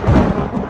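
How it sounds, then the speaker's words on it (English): A short, loud, deep thunder rumble used as an animation sound effect, a broad low roar with no voices over it. "Oh no, that's the thunder beyond yonder,"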